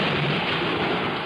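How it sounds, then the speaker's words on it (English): Thunder sound effect for a radio drama: a dense, continuous broadband rumble and roar held steadily loud throughout the short stretch, no voices. "the sound of thunder"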